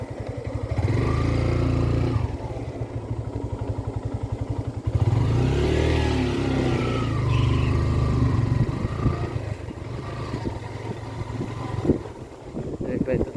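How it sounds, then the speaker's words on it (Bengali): A motorcycle engine drones steadily and close by, with rumbling and wind buffeting, while people talk over it. "মোটরসাইকেল আছে"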